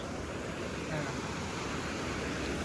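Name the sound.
Huai Pa waterfall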